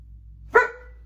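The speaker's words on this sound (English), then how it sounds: "you might hear my dog start barking though behind me" A pet dog barks once at the mailman, a sharp single bark from somewhere nearby in a quiet indoor room.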